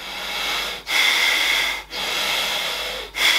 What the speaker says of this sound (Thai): ผมหายใจแรงให้ดูนะ